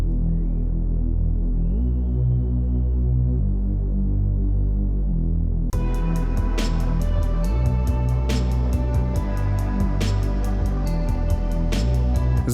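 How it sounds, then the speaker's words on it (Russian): A heavy, droning bass line for a Minecraft dungeon rap track throbs low and menacing, joined midway by brighter layered synths and ticking percussion. "Следующий ингредиент — это бас, который должен быть не особо ярким и просто нагнетать на фоне"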